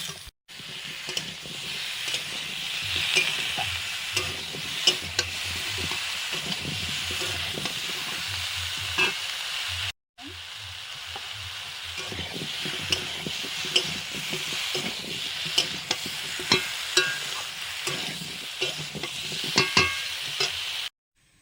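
Pumpkin, potato and pea curry with Kashmiri chili powder frying in a pan while being stirred: a continuous close sizzle with scraping stir strokes, one brief pause midway, no voices.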